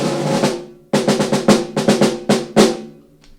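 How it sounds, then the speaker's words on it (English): A snare drum from a drum set is played solo in a percussion episode, a quick run of sharp, rattling cracks with a brief pause before the burst and a ringing tail, close and loud. "So snare drum sounds like this."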